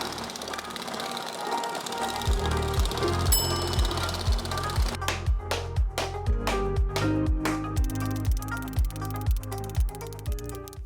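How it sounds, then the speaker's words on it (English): A power hammer shaping sheet metal for a Honda CB750 cafe racer in a workshop: after a brief whir it settles into loud, rapid, evenly spaced pounding blows that continue steadily, close up and with no talking. "this is a few minutes on the power hammer"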